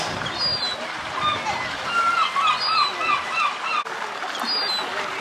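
Seagulls squawking near water at a Cornish seal sanctuary, several high, sharp cries repeating over a background of splashing and outdoor noise.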